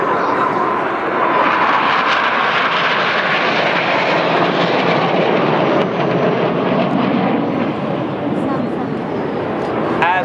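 Red Arrows display jets flying the Cyclone formation at the Sunderland Airshow, a loud, continuous roar of jet engines filling the whole stretch, with a commentator talking over it throughout.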